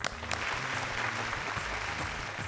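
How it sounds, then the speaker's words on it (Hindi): An audience at a singing reality show gives sustained applause to welcome a judge. The clapping is close and even and runs throughout, with a faint musical bed underneath. "और अब जोरदार तालियों के साथ स्वागत करते हैं हमारी मिश्री की डली प्रीति अमीन जी का।"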